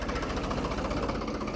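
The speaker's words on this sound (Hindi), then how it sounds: "आगे करो ट्रैक्टर" A tractor engine runs steadily with a loud, close, throbbing low rumble as the tractor pulling a rotavator moves forward.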